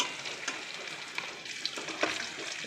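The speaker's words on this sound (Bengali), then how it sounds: "এখন আমি এর মধ্যে একটু জিরা দিচ্ছি ফোড়ন" Cumin seeds dropped into hot oil for tempering, a bright crackling sizzle with scattered sharp pops, close and continuous with no voices.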